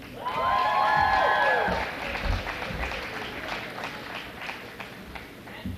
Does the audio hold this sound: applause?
yes